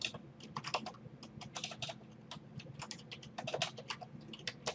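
Rapid keystrokes on a computer keyboard as a command is entered during basic router and switch configuration, a dense run of close, crisp clicks with no talking.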